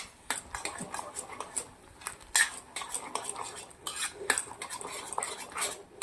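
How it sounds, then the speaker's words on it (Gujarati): A spoon clatters and scrapes against a bowl as cooked basmati rice is mixed with yogurt, in quick irregular strokes, close and fairly loud. "સરસ મજાના ભાતને આવી રીતે મિક્સ કરી દેવાના છે"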